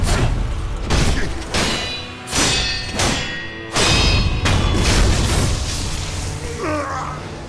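Explosive thrust technique in Sekiro, a video game, with a series of heavy booming impacts and crashes in rapid succession, loud and close, each followed by a rumbling tail.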